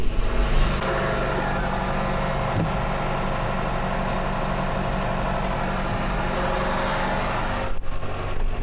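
A John Deere 6110R tractor pulls a disc through a Christmas tree farm field, its engine droning loudly and steadily, heard close from the cab with a brief dip near the end.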